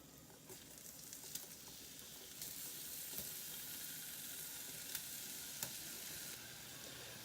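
Food sizzles steadily as it fries in olive oil over medium-high heat in a pan, a constant hiss with occasional louder crackles and pops, with no talking.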